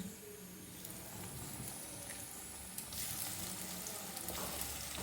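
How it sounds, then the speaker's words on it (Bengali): Lentil cakes (dhoka) fry in hot oil with a steady, dense sizzle that crackles evenly and continuously at close range, with no talking. "তেলটা গরম হলেই তেলে দেব দিয়ে মোটামুটি ভাজবো"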